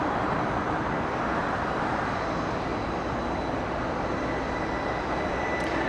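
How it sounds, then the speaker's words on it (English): A Qantas airliner on approach to land at LAX, heard as a steady, broad jet rumble and whoosh, continuous and fairly distant, with no voices. "Qantas coming in."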